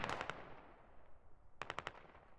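Mortar and small-arms fire in a military shooter game set in Al Basrah, with a distant burst of rapid cracks, a quiet pause, then a second quick burst of four sharp reports.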